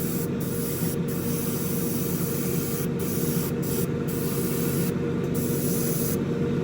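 Spray paint hisses steadily and continuously over a model car body from an AMT 1967 Impala Street Machine kit, a close, even aerosol rush with only slight flickers in its brightness.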